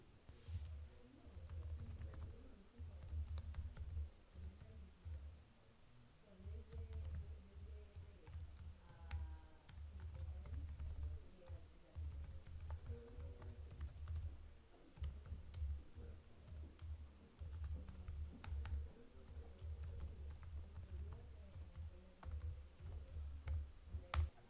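Steady typing on a computer keyboard, soft continuous key clicks at an even pace, quiet and close with no talking.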